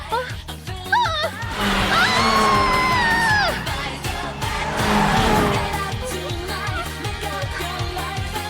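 Street race cars in an anime race scene, with tires squealing and engines howling up close, loud and continuous, a crowd faintly behind and a voice speaking over parts of it.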